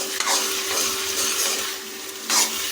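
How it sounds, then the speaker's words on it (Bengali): Chicken skin stirred while it fries in a pan for Bengali ghugni, a dense, loud hissing sizzle with scraping swells from the stirring, close up and with no talk. "চিকেন স্কিন যোগ করার পর আমরা দু মিনিটের মতো এটাকে নাড়িয়ে নিয়েছি"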